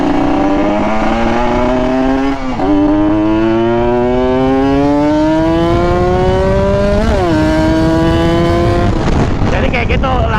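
A motorcycle engine revs hard and climbs in pitch through the gears, with two quick clutch-flick shifts that briefly drop the tone before it winds up again, loud and close the whole time.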